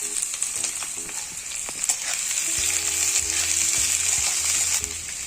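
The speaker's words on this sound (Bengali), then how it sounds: "এবার এখানে আমি পেঁয়াজ আর কাঁচা লঙ্কাটা দিয়ে দেব।" Sliced onion and green chillies hit hot oil in a pan, producing a loud, steady sizzle with a few clinks and scrapes of stirring, no voices.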